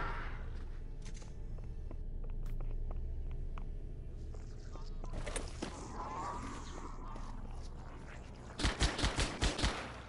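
Video game shotgun blasts against the Flood in Halo: Combat Evolved sound over a busy background of battle noise, with a rapid closing run of five or six loud, punchy shots.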